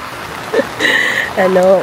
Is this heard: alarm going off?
no